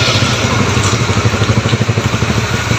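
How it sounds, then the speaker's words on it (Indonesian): Honda CBR motorcycle engine idling while warming up, a close, steady low throb with rhythmic pulsing firing beats and light mechanical clatter, alone without speech. "Kita panasin ya biar hangat mesinnya."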